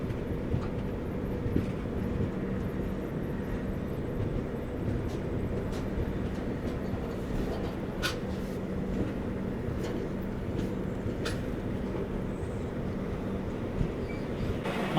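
The Garib Rath Express rumbles steadily into Sri Sathya Sai Prashanti Nilayam station, a loud, continuous low roar of rolling wheels with scattered sharp clanks and squeals, and no voices.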